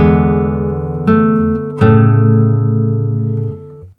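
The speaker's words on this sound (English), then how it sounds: "we will have this very funny harmony that sounds like this." Guitar sounding a chord of three notes with an unusual harmony, two fresh attacks layered over ringing strings that sustain and then fade, clear and close with no voice.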